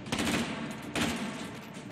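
Two short bursts of heavy machine gun fire in the VR shooter H3VR, a rapid rattling volley followed about a second later by another, moderately loud and slightly muffled, no voices.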